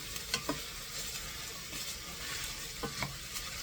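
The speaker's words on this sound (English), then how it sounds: "what we're doing here is called sauteing vegetable" Vegetables sauté in a pan, giving a close, continuous sizzle broken by several sharp utensil scrapes and taps in small clusters.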